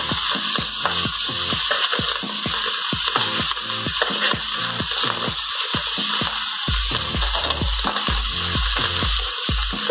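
Bacon fries in a pan with a steady, dense sizzle, broken by close clattering and scraping as it is moved and turned.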